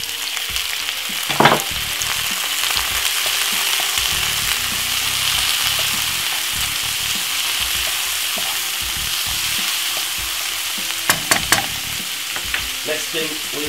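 King prawns and three cloves of finely cut garlic fry in a pan with a loud steady sizzle, punctuated by a few clattering stirs and scrapes.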